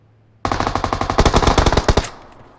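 Burst of machine gun fire in a PUBG-style battle royale match, a rapid string of loud, close shots lasting about a second and a half before cutting off into a short fading tail.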